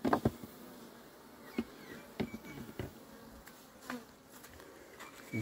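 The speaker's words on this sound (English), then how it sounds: "A lot of bees activity this morning." Honey bees buzzing around a beehive entrance on a warm morning, a steady insect drone with repeated close fly-by buzzes passing near and loud, no talking.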